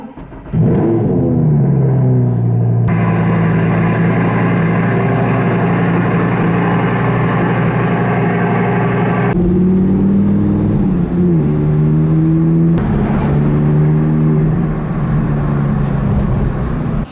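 A Lamborghini Huracan's engine idles with a deep, steady rumble, then swells through several loud revs whose pitch rises and falls, heard up close and alone without any talking.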